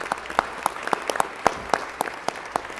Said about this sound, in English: So give them one more round of applause.